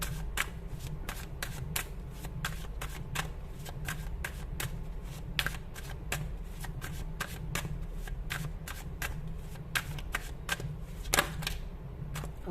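Tarot cards being shuffled close up: a continuous run of quick, crisp riffling flaps and soft card slaps at a steady, fairly quiet level, with no talking.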